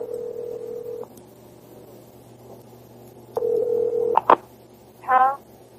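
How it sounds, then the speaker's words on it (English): Telephone call being placed to a pay phone: a steady dial tone, then a short burst of touch-tone dialing beeps, followed by a ringback tone on the line, all clear and close. "Tony places the call to the pay station number."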